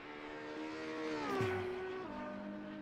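A Ferrari's exterior engine note in Assetto Corsa, heard from outside as a tonal revving whine that climbs, drops sharply with a gear change, then holds steady, moderately loud and alone.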